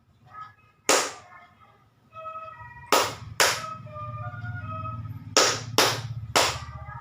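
Middle-school students in a Jakarta classroom clap in a rhythm game, with sharp group claps coming first as a single, then a pair, then a quick set of three, over a low background hum.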